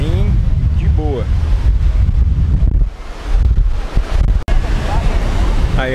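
Ocean surf and gusting wind at Jurerê Internacional beach in Florianópolis, a crowded shore: a steady loud roar buffeting the microphone, with people's voices over it.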